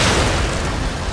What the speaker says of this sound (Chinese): 我们来切一下爆炸箭矢吧